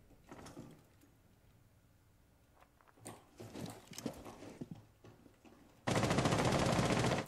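Rainbow Six Siege gunfire: scattered shots and a cluster of rapid bursts mid-clip, then a sustained loud automatic volley near the end, heard in an otherwise quiet indoor scene.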